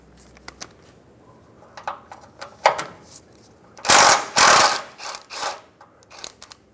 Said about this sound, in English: Using a 12mm socket, remove the bolt for the bracket going to the frame.